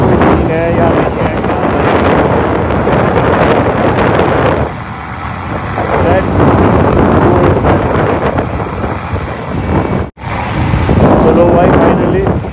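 Yamaha MT-15 motorcycle cruising along a highway, heavy wind buffeting the microphone with a steady engine drone throughout, a brief dip in loudness midway and a sharp dropout near the end.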